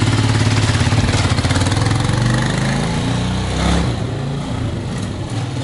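A Romet K125 motorcycle engine with a Mikuni VM22 carburettor runs steadily close by on its first start, a rough, throbbing idle with a slight dip in intensity midway, no voices.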